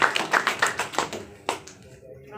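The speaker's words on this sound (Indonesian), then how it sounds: "Tepuk tangan sekali lagi untuk Bapak Ibu." An audience at an Indonesian health program event claps in a short, uneven burst of hand claps that fades out after a couple of seconds, close and moderately loud.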